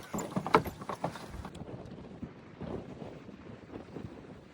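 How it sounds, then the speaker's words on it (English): Wind buffets the microphone in uneven gusts, a loud rumbling rush early on that eases to a lighter, fluttering blow. "It's so windy. It's going crazy, guys."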